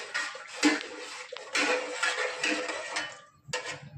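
Water is poured in uneven splashing bursts into a blended tomato and rice mixture for homemade tomato vadiyalu, mixed with clinks of a steel vessel and utensil.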